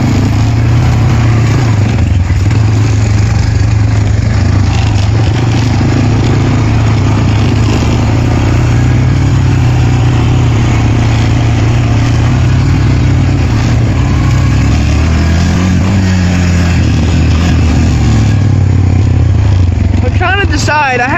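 A Honda Recon 250 ATV engine drones loud and close while riding along a small wooded trail, a continuous low rumble with shifting pitch as it works over the ground, with someone talking over it.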